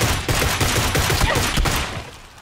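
A rapid string of loud gunshots from the video game PUBG, sharp cracks in quick bursts for about two seconds before fading into quieter noise, with no talking.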